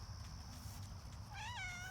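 A cat gives one short, rising meow near the end, close and fairly clear over a low steady outdoor hum in a garden.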